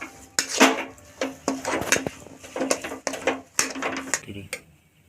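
A spatula scrapes and clanks in a pan as potato filling with coriander leaves is stirred for aloo paratha. About seven sharp metallic bursts come in an uneven rhythm, close and fairly loud.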